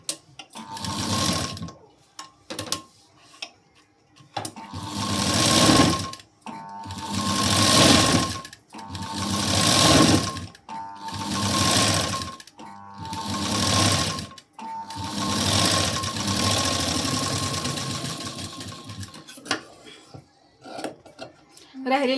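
Sewing machine stitching a neck strip onto a square blouse neckline, running in repeated bursts of rapid mechanical chatter with short pauses between, close and fairly loud.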